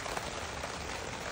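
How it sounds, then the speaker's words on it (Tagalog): Heavy rain pours steadily during a wedding anniversary gathering, a dense, even wash of broadband hiss with no breaks or pauses, close and continuous across the whole short stretch. "Grabe naman yung ulan na ito"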